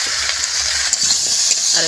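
Pointed gourd sautés with mustard paste, salt, turmeric and green chillies in a pan, giving a loud, steady sizzle and frying hiss with scraping stirring strokes throughout.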